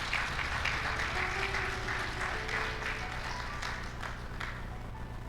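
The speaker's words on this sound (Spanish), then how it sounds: "Denle aplausos a la palabra del Señor" Church congregation applauding during a service, a steady wash of many hands clapping at moderate distance, continuous for several seconds with faint background murmur.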